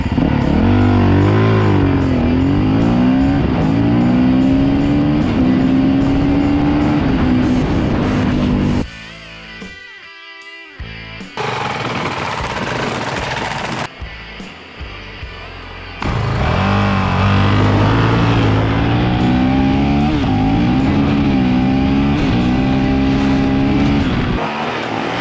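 A Honda CRF450L dual-sport motorcycle engine runs loud and close with rising and falling revs, drops to a quieter stretch with sharp clatter partway through, then returns to a strong steady roar.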